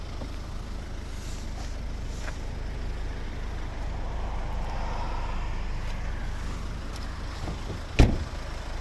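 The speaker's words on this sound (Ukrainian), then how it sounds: "Як рівно тихо працює двигун." A car engine idles quietly with a low, even rumble, and a single sharp click sounds near the end.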